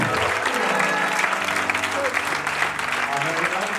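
A church congregation at a Sunday service breaks into loud, sustained applause, dense and close. Voices and what sounds like music carry underneath.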